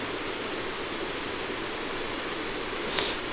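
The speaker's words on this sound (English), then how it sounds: "I have at long last found the long-lost waterfalls of the Brecon" Waterfalls in the Brecon Beacons, Wales, roar as a steady, broad rush of falling water, loud and unbroken throughout, with a brief brighter splash or gust near the end.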